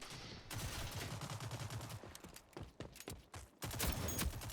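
Rapid gunfire from hip shooting in a shooter video game, dense overlapping bursts of shots at moderate level, thinning midway and then intensifying again near the end.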